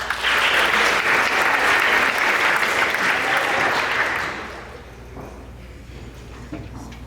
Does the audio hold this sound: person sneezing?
no